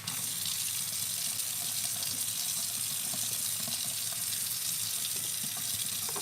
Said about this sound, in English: Let me rinse that out.